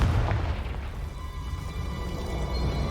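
A Confringo spell blast in the video game Hogwarts Legacy lands as a single deep, loud boom at the start, followed by a rumbling, crackling tail that fades slowly.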